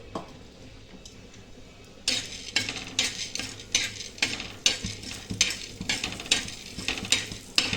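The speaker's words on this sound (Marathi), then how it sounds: "डाळ आहे ना भाजून घेते मी थोडंसं तेल टाकते" Dal roasts in a little oil in a pan while a spoon scrapes and stirs it in quick repeated strokes, each scrape a sharp rasp over a soft sizzle, close and fairly loud after a quieter start.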